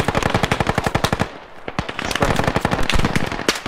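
Rapid bursts of automatic gunfire hammer at pillboxes during a squad assault in a military video game, loud and close, with rhythmic rattling volleys and a short lull before the firing resumes.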